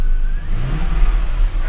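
Lexus engine revving after a throttle body repair: a single close, steady climb in revs from idle that holds and then settles, with no talking.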